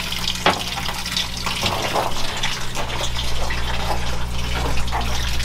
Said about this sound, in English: I'll rinse that off and put it in the bag.